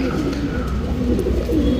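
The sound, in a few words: Kathang female pigeon cooing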